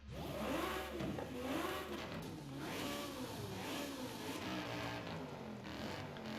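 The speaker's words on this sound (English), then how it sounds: "That Corvette engine always sounds good." A Corvette fitted with a 5.2-liter twin-turbo V10 revs in the Forza Horizon 5 racing game, a loud, steady engine roar with rising and falling pitch sweeps throughout, heard alone.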